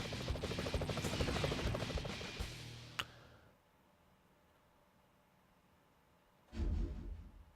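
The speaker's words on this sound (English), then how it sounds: "how does a helicopter sneak up on you?" A helicopter in the PS1 Spider-Man video game roars with a dense rotor rumble that cuts off abruptly after a sharp click, then returns loudly after a quiet gap.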